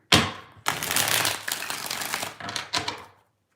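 Tarot cards are shuffled by hand in a few quick bursts: a sharp riffle, a longer rustling run, then shorter flicks before stopping, close and crisp in a quiet room.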